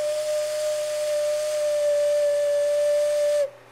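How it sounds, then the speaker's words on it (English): A handmade clay whistle gives one steady, pure tone lasting over three seconds, loud and close with a breathy edge, then stops abruptly. "And there you have a whistle."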